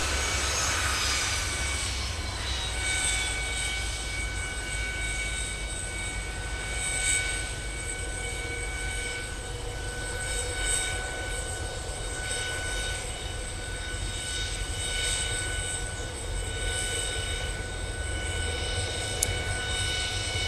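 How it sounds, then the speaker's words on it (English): A Boeing 717 jet with BMW Rolls-Royce engines runs at a snowy winter airport, a sustained engine whine with steady high tones over a deep rumble, holding close and loud for the full stretch with only slight swells. "Those BMW Rolls-Royce engines have a sweet, sweet sound to them."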